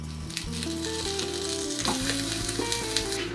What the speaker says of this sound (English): So right now I'm cleaning the garlic and I'm going to roast it also